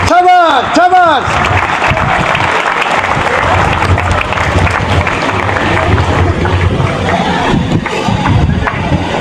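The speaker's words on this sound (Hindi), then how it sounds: "अर्शद नदीम साहब के लिए भरपूर तालियां बजती रहनी चाहिए।" A crowd in Lodhran applauds Pakistani javelin star Arshad Nadeem, loud dense clapping filling the space after a brief tonal whistle or horn at the start, sustained and close for several seconds.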